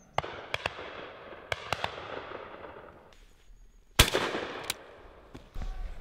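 Shots from an old, wobbly gun with a split trigger guard and a battered stock: several sharp cracks, then one much louder blast that rings out and fades, heard outdoors with no talking.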